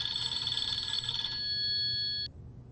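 A phone rings with a steady electronic tone that stops abruptly after about two seconds. The room is otherwise quiet, with no talking.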